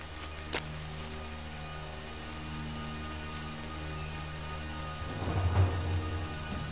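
Heavy downpour pours steadily in a frog habitat during the rainy season, with a low rumble of thunder swelling near the end.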